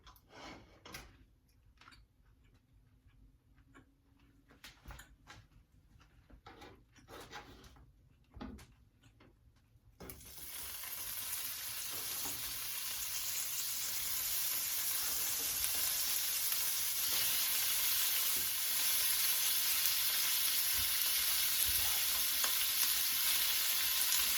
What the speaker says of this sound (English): let this heat back up, and then we're going to put our vegetables in there